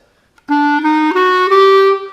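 A sustained reedy clarinet tone steps upward through several held notes of the Hijaz scale, played alone with a clear, rich timbre after a brief click at the start.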